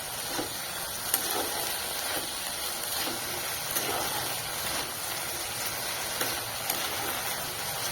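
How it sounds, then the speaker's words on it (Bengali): Water lily stems frying in a pan with salt and turmeric make a steady, moderately faint sizzling hiss that runs throughout, with occasional tiny pops. "একটু নুন দিয়ে, হলুদ দিয়ে ভালোভাবে আবার ভেজে নেব।"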